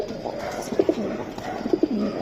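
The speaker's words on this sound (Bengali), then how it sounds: "অনেক সুন্দর একটা কবুতর" Pigeons cooing at close range among a pigeon seller's birds, two soft rounded coo phrases repeating in a steady rhythm.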